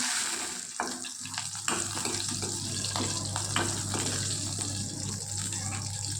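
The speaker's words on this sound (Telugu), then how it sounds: "పచ్చిమిర్చి ఈ విధంగా వేయించుకోవాలండి" Green chillies and curry leaves frying in oil in a pan give a steady, hissing sizzle at moderate loudness throughout, with a low constant hum underneath and a few small clicks.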